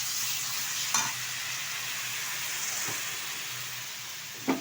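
Onion paste fries in a pan with a steady, close sizzle, punctuated by a few soft knocks and scrapes of a spoon stirring it.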